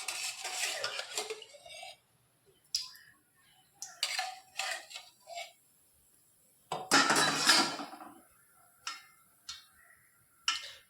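Metal pots and utensils clatter and clink in short bursts on a gas stove as 4 tablespoons of oil go into a pan for Telugu prawn curry, with quiet gaps between the clusters of knocks.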